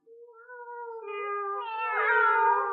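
Cats meow in a recorded telling of the animated story The Aristocats: one drawn-out meow rises and swells louder, with a second cat joining toward the end. The voices are close and clear, with no talk.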